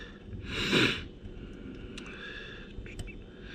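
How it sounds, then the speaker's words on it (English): A single sharp nasal sniff from allergies stands out early, followed by quiet breathing and faint rustling movement nearby during a pistol build. "Sorry, I'm still sniffling. I just got that allergies."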